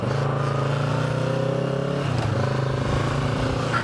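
A Kawasaki Z650 ABS motorcycle engine on a daily ride, a steady, loud parallel-twin drone with a slight shift in pitch midway, close and continuous with wind rush.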